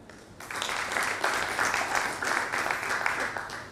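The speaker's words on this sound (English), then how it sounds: "We have a big applause for the theme." An audience at a building renovation donation ceremony breaks into applause, a sustained burst of many hands clapping that starts abruptly and holds steady and fairly loud to the end.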